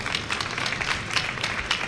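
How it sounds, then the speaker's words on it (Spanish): Applause after a talk at a Quito conference panel on digital media and journalism: a short burst of scattered clapping from an audience, fairly steady and moderately loud with no one speaking. "un aplauso para Álvaro"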